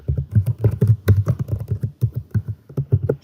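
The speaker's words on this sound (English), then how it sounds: "I will type in" Steady fingers tapping on a computer keyboard while a search term is entered, close and fairly loud, an irregular patter of keystrokes with no voice.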